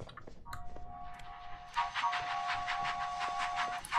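Train noise in the video game Never Again, a steady mechanical hiss and rattle with a sustained tone, growing louder partway through and running alone without talk.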